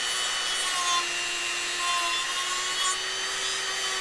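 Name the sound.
rotary tool sanding drum on metal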